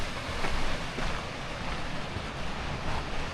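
Creek water rushing steadily at Great Sand Dunes National Park, a constant broad wash mixed with wind buffeting the microphone, with no one talking.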